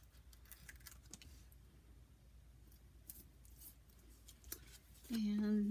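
Scissors snipping paper for a craft fold, quiet close cuts in a few irregular bursts over low background noise, then a voice starts speaking at the end.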